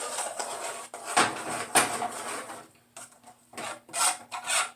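A spoon scraping and stirring grits in a pot, giving rough rasping strokes in irregular bursts with short pauses between, close and fairly clear.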